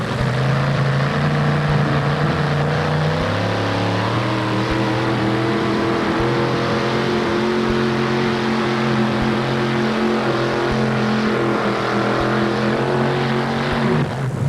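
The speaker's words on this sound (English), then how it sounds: "Now we'll be able to see how the trucks react off the line against the wet track." Pulling truck Little Stomper 2 launches off the line at a 1988 NTPA truck pull in Syracuse on a wet track, its loud engine roaring steadily with rising and shifting harmonic tones throughout, no talk over it.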